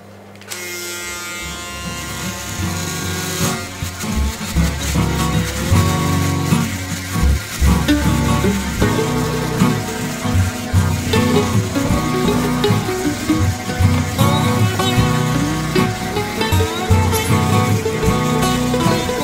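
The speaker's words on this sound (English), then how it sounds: "Today we're going to look at how a Braun S9 shaver tackles a 10-day growth." A Braun S9 electric shaver cutting through ten days of man's stubble, a loud close buzzing with crackling, rasping bursts as the heads chew the hair, continuing steadily for a long stretch with no talk.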